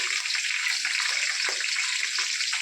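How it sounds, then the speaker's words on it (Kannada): Sliced onions frying in hot oil for chitranna, a steady dense sizzle that holds evenly throughout with no talk. "ಈರುಳ್ಳಿನೂ ಸಹ ಚೆನ್ನಾಗಿ ಎಣ್ಣೆಲಿ ಫ್ರೈ ಆಗಬೇಕು"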